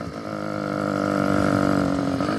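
An 80cc two-stroke motorized bicycle engine, still being broken in, runs steadily close by with a buzzy, even tone that swells gently in loudness.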